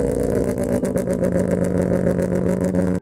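A loud, buzzy 1.3-liter rotary twin-turbo car engine idling and revving with a steady droning hum and rapid pulsing tone, close up and without voices.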